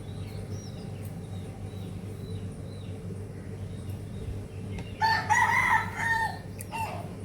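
A rooster crows once, loud and fairly close, after several seconds of quiet background hum with faint distant bird calls.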